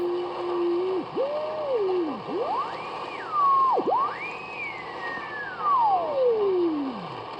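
BFO beat tone on a Panasonic RF2200 shortwave radio: a clear whistling tone slides up and down in pitch as the tuning sweeps, dipping to low growls and then gliding high, over a steady background hiss.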